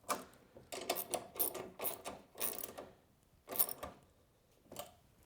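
A 7/16 socket wrench ratchets bolts onto the chute bracket of a Toro Power Max e24 60V electric two-stage snowblower, a quiet series of rapid clicking bursts with short gaps between them.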